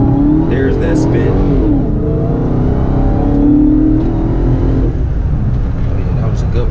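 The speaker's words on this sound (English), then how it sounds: "To launch, press brake and quickly apply full throttle. There it is. There's that spin." A Dodge Hellcat launches in launch mode at full throttle, its engine roaring loud and close with a rising rev and tyre-spinning rumble that holds for several seconds before easing off.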